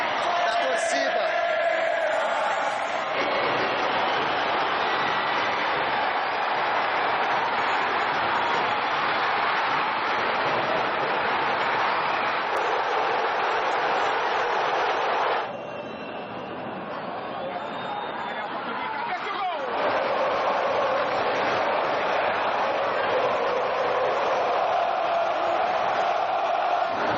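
Football fans packed into Arena Palmeiras stadium fill the air with a dense, continuous roar of chanting and chatter, dipping briefly midway before surging back to full volume, with a voice speaking over the crowd.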